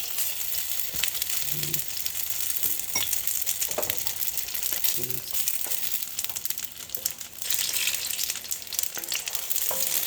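Fried rice, made alkaline vegan style, sizzles steadily in hot oil in a pan as it is swirled around, a constant bright hiss broken by a few soft scrapes and clinks.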